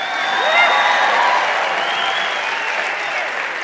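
A church congregation applauds a graduation announcement, sustained loud clapping from a large crowd filling the hall for several seconds without pause.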